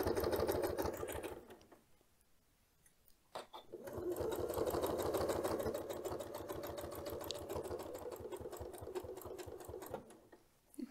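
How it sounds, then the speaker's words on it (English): Sewing machine stitching binding down onto fabric with a steady, fast mechanical whir that pauses briefly, then resumes and runs continuously at close range. "I can just go ahead and sew down"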